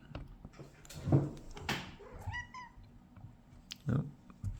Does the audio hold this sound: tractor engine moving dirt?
no